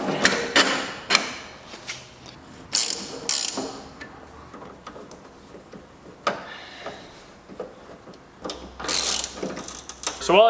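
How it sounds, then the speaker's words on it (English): A strut on an S2000 raised during a K-Tuned K1 coilover install, with loud, close ratcheting clicks and mechanical clanks coming in irregular bursts, and no talking. "while I sit here and raise this strut a little bit"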